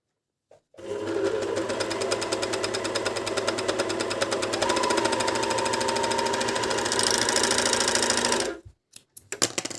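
A MEDION MD10685 overlock serger stitching fleece runs at a steady fast mechanical whir and rattle for about eight seconds, loud and close, then stops, leaving a few light clicks.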